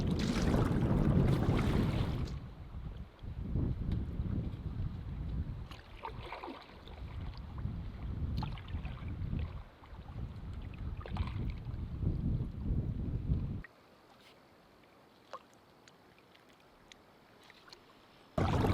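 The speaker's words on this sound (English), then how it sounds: "I've been paddling on Sturgeon Lake for about 2 hours now." A canoe is paddled on Sturgeon Lake in remote Canada, with rhythmic water splashes and strokes amid heavy wind buffeting on the microphone that drops away toward the end, leaving quieter lapping water.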